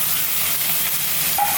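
Prawns go into hot oil with browned onion and green chilli, giving a brief, steady, close sizzle and hiss with no speech.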